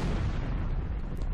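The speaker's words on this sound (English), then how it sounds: "Do little explosions." Little explosions go off from an attack in the Naruto-themed Roblox game Shindo Life. They form a loud, dense, continuous rumble of overlapping booms and bursts that fills the short moment with no letup.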